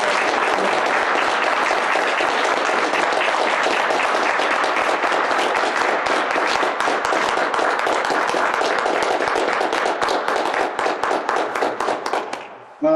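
Sustained loud audience applause after a talk at a lecture event in Rochester, Minnesota: dense clapping from a full room that runs steadily for many seconds, then thins out and stops abruptly near the end.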